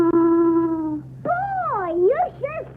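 A voice imitates an owl hooting: a long, steady hoot, then a short pause and a few swooping, wavering calls, close and fairly loud.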